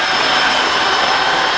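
A Tineco S5 cordless vacuum mop runs with a loud, steady whirring hum, close up and unbroken throughout.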